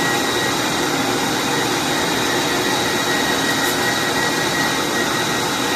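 Meat grinder running through elk meat on a third grind for elk, bourbon and cherry salami, a loud, constant motor roar with steady broadband whir, close and uninterrupted.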